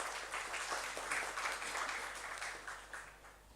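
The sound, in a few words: audience applause for the speaker Mr. Pradhan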